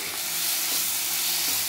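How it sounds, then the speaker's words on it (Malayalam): Ginger garlic paste sizzles in hot ghee, a steady close hiss of frying with faint stirring scrapes throughout. "നെയ്യിലേക്ക് നമുക്ക് ജിഞ്ചർ ഗാർലിക് പേസ്റ്റ് ഇടാം."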